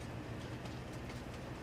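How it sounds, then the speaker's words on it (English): A train in Farming Simulator 22 drives away with a steady, dense rumble that fills the whole moment at an even level, with no talk over it. "The train will now drive to Marathon and return to the other side of the map."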